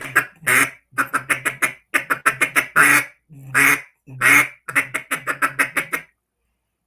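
Close, loud duck-call imitation of a single duck: quick runs of short chatter notes broken by several longer, drawn-out quacks, ending in silence, with no voices.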